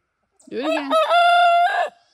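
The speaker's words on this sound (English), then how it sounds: "I'm pretty sure that one that just crowed" A rooster crows on a farm, a single loud, close cock-a-doodle-doo that stands alone against a quiet background.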